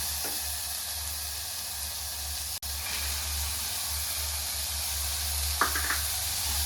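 Whole green gram is added to a hot pan and stirred, making a steady broad sizzle with a low hum beneath and a couple of brief stirring scrapes, close and unbroken, without voices.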